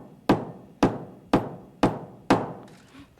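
A small hammer strikes a printer ribbon five times in an evenly spaced series, each knock sharp, close and clear with a brief decay.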